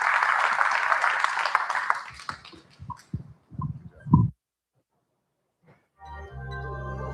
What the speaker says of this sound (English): Warm thanks and applause